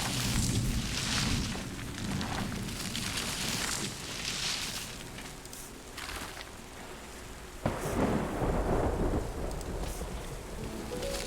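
Steady heavy rain with rolling thunder in the video game Terra Nil, a loud continuous wash that surges with a sharp thunder crack partway through, no voices.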